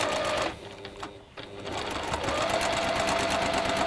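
A sewing machine stitches fabric for a quilt, running at a fast, steady rattling pace close by, easing briefly near the start before resuming at full speed.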